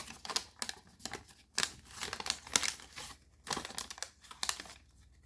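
Paper being crimp folded for an origami jet: a close-up run of crisp crinkling and rustling bursts, several short handling sounds with brief quiet gaps between them.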